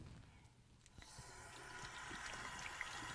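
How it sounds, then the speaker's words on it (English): Running tap water pours in a bathroom as hands are washed after painting, a steady hiss that starts abruptly and continues at moderate loudness with faint splashes. "going to walk into the bathroom and wash my hands"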